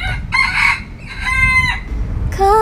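A rooster crows loudly and close by, three drawn-out crows in quick succession over a low background rumble.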